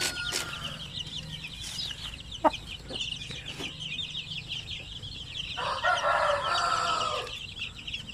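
Shamo and Aseel chicks and chickens clucking and chirping, with a rooster crowing partway through; the calls are moderately close over a steady farmyard background.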